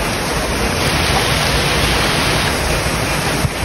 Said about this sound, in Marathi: एवढा जोरात पाऊस चालू झाला तुम्ही बघा